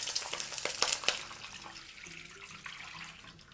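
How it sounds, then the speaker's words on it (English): About a liter of water poured into a pot over garlic and ginger, a brief splashing burst at the start that fades into softer bubbling and sizzling. "we'll add in water. Add in 1 liter of water."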